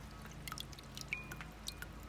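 Soaked nuts or grains being drained of their soaking water while making plant milk, a quiet trickle with scattered light drips and splashes, faint and close.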